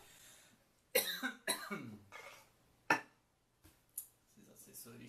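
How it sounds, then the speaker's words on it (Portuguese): A few sharp coughs and throat-clearing bursts, close and loud, separated by short quiet gaps. "Bem na hora de começar, agora eu tossi"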